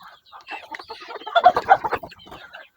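Chickens cluck in a busy, overlapping flurry while being fed in a coop, the calls rising to a louder cluster midway before settling into scattered softer clucks.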